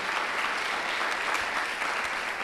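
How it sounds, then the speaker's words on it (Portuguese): Congregation applauding during a church service, a dense, even wash of clapping that carries steadily throughout with no break. "Você pode aplaudir o Senhor Jesus por pessoas assim, né?"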